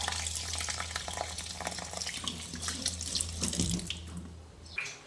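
Rice and lentils for khichdi are washed under a running kitchen tap, water splashing steadily into the vessel with close, continuous rushing and some clinks near the end.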